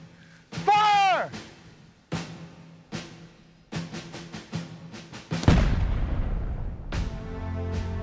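A historic cannon fired by a costumed gun crew at a Battle of New Orleans commemoration gives one loud, deep boom followed by a long rumbling tail. Sharp shouted commands and crowd voices come before the shot.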